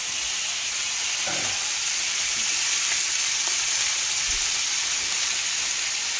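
Ribeye steaks sear in two tablespoons of hot oil in a pan, producing a loud, dense, continuous sizzle and hiss up close, with a few faint low knocks underneath and no talking.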